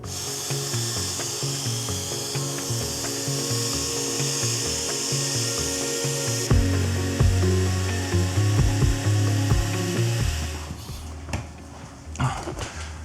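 Continuous rhythmic rubbing of sandpaper on a yellowed Porsche headlight, back-and-forth strokes at a steady pace, close up, followed by a few clicks and handling noises.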